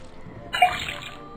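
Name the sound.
water running from a faucet into a cauldron, Detective Grimoire video game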